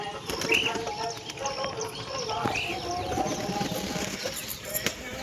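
White pigeon wearing a leg band, soft cooing and brief wing flutters close by, with scattered chirps and shuffling over a light background bed.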